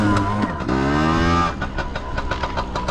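A Chinese Piwi 80 semi-automatic motorbike engine runs steadily in second gear, its mid-pitched drone rising and falling slightly with throttle, loud and close throughout with no talk over it.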